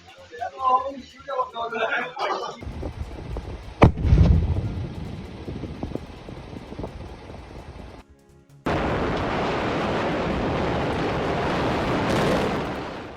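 Talk at the start, then a sudden sharp blast followed by a rumbling roar that fades, and later a sustained loud rushing noise.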